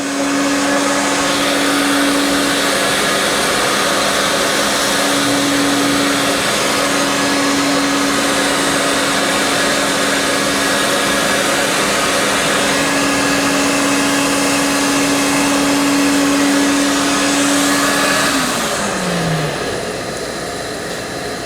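An HS340 surface grinder grinds a Mini crank bearing cap while a shop vacuum runs alongside, making a loud, steady whine that holds for about eighteen seconds before winding down in pitch.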